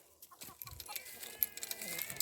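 Soft clucking of hens mixed with faint farmyard rustling in a vegetable garden in Esterzili, Sardinia, fairly quiet and close, with brief sharp chirps scattered throughout.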